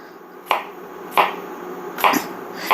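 Peeled zucchini being sliced with a knife on a cutting board: four crisp, evenly spaced chops about two-thirds of a second apart, close and clear against a quiet room.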